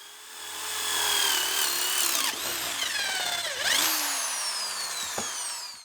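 Corded drill driving a spade bit into wood, a loud continuous whine with pitch sweeps as the bit bites and eases, steady for several seconds before trailing off.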